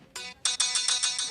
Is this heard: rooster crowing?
no